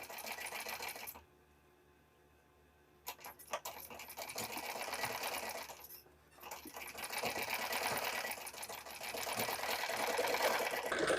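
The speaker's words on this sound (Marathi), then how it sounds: "तर आता आपण इथून पट्टीला शिलाई देऊन घेऊयात" A sewing machine stitches a strip of blouse fabric, a close, steady mechanical whirr that pauses briefly twice and then runs on continuously, growing a little louder toward the end.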